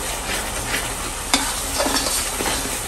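Masala fries in oil in a pan, a loud steady close sizzle with a sharp clack of a utensil and a few stirring scrapes over the hiss, no one speaking.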